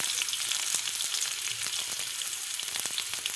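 Onion, green chili and curry leaves sizzle and crackle steadily in hot oil for puri masala, with dense frying hiss and occasional sharp pops, heard close and alone without talk.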